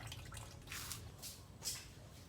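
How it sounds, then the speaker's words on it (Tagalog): Harvested liquid probiotic pours out in several faint splashing bursts of liquid over a low background hum, with no talking. "Buhos po muna kami ng ating mga ha-harvesting probiotic para po makapag-umpisa sa paggawa."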